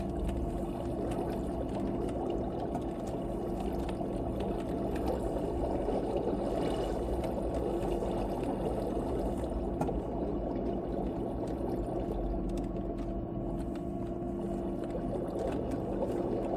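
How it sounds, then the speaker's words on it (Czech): A steady, dense rush of flowing water from a waterfall in the Minecraft video game runs continuously and evenly without pause. "Já jsem věděl, že tady poteče možná trošku vody."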